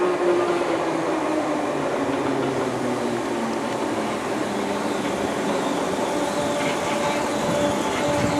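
Merseyrail Wirral Line train running near Hooton Station, a steady, loud broadband rumble and rail roar throughout with faint rhythmic clatter and a brief tonal whine toward the end, no voices.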